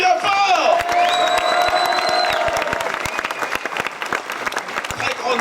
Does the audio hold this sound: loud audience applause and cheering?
yes